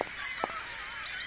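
Birds honk in the Syberia video game: two short, goose-like honks, one at the very start and another a moment later, over a hazy, continuous ambient background. Both are fairly quiet.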